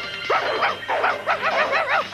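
Cartoon bulldog barking in a rapid run of sharp, loud barks and yaps close up, several short bursts in a row with no talk.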